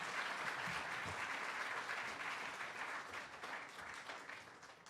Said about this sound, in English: You're going to clap after every person?